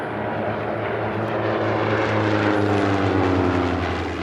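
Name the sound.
racing biplanes flying past at an air race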